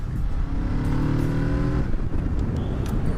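A 2021 Kawasaki Z650 motorcycle engine downshifting while riding, its loud close revving tone climbing and dropping through the gear change, with wind rush behind.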